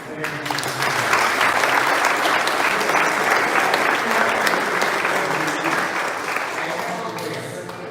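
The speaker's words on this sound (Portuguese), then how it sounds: "então eu vou pedir para você dar uma salva de palmas" Audience at a church service clapping steadily in a thick, sustained round of applause that holds for several seconds and tapers slightly at the end.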